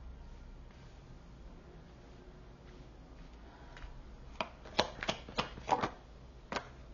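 Tarot cards shuffled for a reading: a quiet low rumble first, then a burst of sharp riffling flicks and taps close by toward the end, with no talking.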